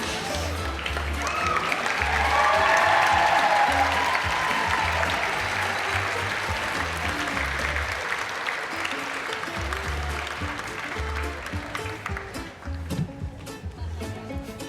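An audience at a university apparel design fashion show claps throughout, the applause swelling early and then tapering off, with a backing track of music underneath.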